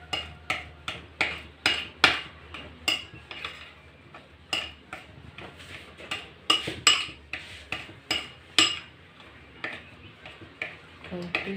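Potato wedges tossed with salt in a bowl give off a steady series of sharp clinks and scrapes, roughly one every half second, close and fairly loud, with no talking over them.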